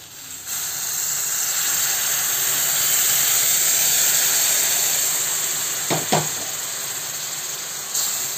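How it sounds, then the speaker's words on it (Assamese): Water poured into roasting flour halwa in a hot pan sets off a loud, sustained steaming hiss and sizzle that slowly fades, followed by a couple of brief utensil knocks near the end. "এতিয়া পানীখিনি ইয়াতে দি দিম"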